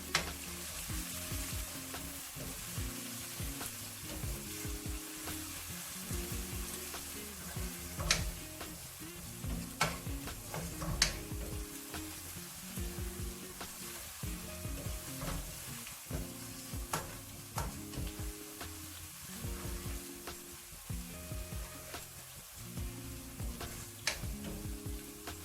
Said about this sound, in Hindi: तो इसको भी प्याज के साथ ही पहले 1 मिनट तक के लिए भून लेंगे।